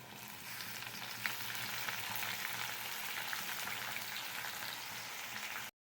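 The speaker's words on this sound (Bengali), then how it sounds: "আলুটা ভাজা হয়ে গেছে" Cut potatoes frying in a pan with black cumin seeds and chopped onion, a steady dense sizzle and crackle running evenly throughout with occasional sharper pops, close and alone without talk.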